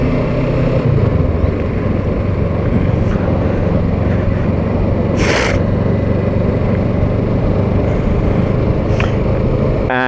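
A motorcycle cruises along a highway with a loud, steady engine drone and heavy wind rush that stays constant throughout, with a brief sharper burst of noise midway.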